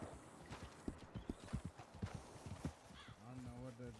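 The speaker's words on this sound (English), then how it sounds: "Hey, Mr. Buns, that's a nice horse you got there." A horse's hooves clip-clop in an irregular rhythm, nearby and moderately quiet, and a short whinny comes near the end. Faint voices can be heard in the background.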